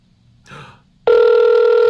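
A call rings out on a phone or online call line, a steady electronic tone that starts abruptly about halfway through and holds loud and unbroken, after a brief soft rustle.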